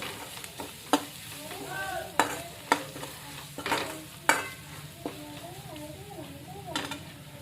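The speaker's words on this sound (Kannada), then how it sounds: "ಕೊತ್ತಂಬರಿ ಹಾಕಿ ಎಲ್ಲ ಮಿಕ್ಸ್ ಮಾಡ್ಕೊತೀನಿ ರೀ." Spoon scraping and knocking against a pan as coriander is stirred into a sizzling egg curry, with several sharp clinks over a steady frying hiss and a voice talking in the background.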